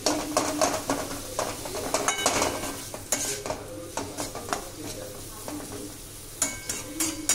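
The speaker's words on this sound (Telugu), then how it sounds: "అయితే ఫ్రై చేద్దాం." Smashed mutton and coconut fry in a pan with a continuous sizzle under repeated rhythmic scrapes and clatters of a spoon against the metal, close and busy.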